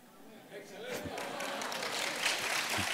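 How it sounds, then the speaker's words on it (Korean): Congregation clapping at a Friday evangelism school gathering in a Daegu church, building from a few claps into steady applause that fills the room for a few seconds. "아니 박수 칠 건 아니고."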